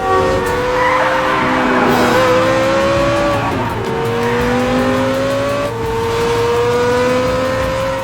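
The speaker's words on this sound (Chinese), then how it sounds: "双方当即在马路上展开飙车大战" A high-speed car chase on a road from an action film, with several cars racing at full throttle and long, loud tire squeals that sweep up and down as they skid. Engines roar continuously and no one speaks.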